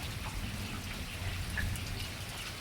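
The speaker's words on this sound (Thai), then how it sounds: "ชมบรรยากาศฝนตก" Steady rain falls in a moderate, even wash with a soft low rumble underneath and no clear individual drops standing out, continuous throughout with no voices.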